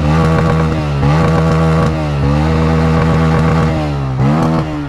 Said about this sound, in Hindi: और ये साउंड पटाखे मारने भाई,